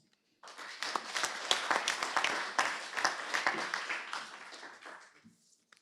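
A room of people at a Troinex council meeting applauding to elect a vice-president by acclamation, with steady, dense group clapping for about five seconds before it trails off.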